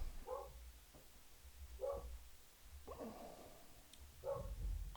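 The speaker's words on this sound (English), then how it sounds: "Guard dogs are here." Guard dogs bark in short, separate woofs a few times at moderate distance over a steady low hum, with no talking.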